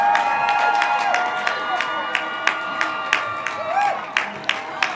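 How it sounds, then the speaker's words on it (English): A crowd at a 2021 graduation ceremony cheers and applauds a graduate walking to his seat, with sustained cheering, whistles and shouts over a hall wash, punctuated by sharp individual claps. "Let's cheer him all the way to his seat."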